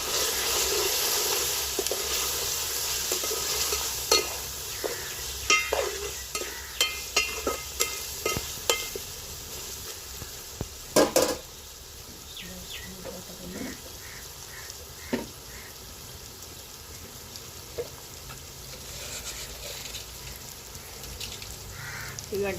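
Mutton frying in a pan as chili powder goes in, a soft steady sizzle with a scattering of stirring knocks and scrapes in the middle stretch, fading quieter toward the end.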